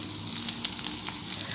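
Banana and black rice flakes snack frying in a hot pan, a steady close sizzle with faint bubbling crackle running evenly throughout, no voices.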